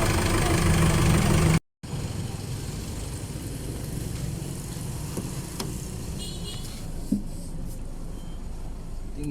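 Isuzu MU-X diesel engine idling steadily after wrong-fuel gasoline was drained and replaced, a continuous close, even rumble with a brief cut near the start and a few small clicks, faint talk under it.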